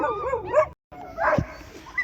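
Puppies of a local Kazakh breed whimper and yip at an animal market in Kyzylorda, high whining calls and a short bark close by, with a voice speaking briefly among them.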